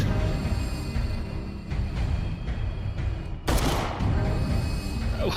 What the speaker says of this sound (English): How did he shoot him there?